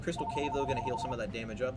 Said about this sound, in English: There's a phone call coming in. Ring, ring.